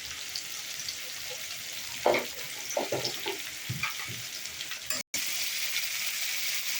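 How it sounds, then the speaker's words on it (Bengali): Bitter gourd pieces with salt and turmeric fry in hot oil, a continuous bright sizzle broken by a few close stirring scrapes, without talk. "তারপরে উচ্ছেটাকে ভালো করে ভাজবো"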